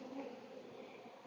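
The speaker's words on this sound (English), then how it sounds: "As you can see at the front, it's quite a lot of bees." Honey bees massed at the front of a hive ahead of cut comb preparation, a steady close buzzing drone that holds at an even, quiet level throughout.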